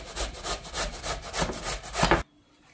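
Fresh pumpkin is rubbed against a kitchen grater in quick rhythmic rasping strokes, about a dozen close scrapes in a steady pulse before stopping abruptly into quiet.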